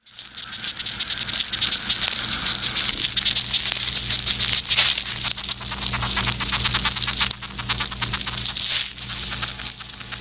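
Insects recorded in distress, giving a dense, steady buzzing trill with rapid raspy pulses that rise and fall in intensity, loud and close, with a faint low hum underneath and no voices.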